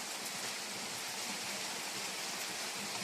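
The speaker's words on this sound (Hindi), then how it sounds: "मैं बारिश का आनंद ले रही हूँ," Steady rain pours outside a house, a dense even hiss with no breaks, fairly loud and close, with no voices over it.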